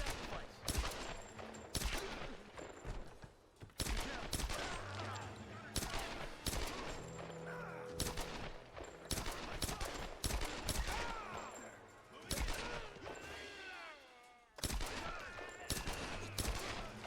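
Repeated pistol gunfire in a video game, sharp shots in irregular bursts and clusters across a busy game soundscape with music and effects.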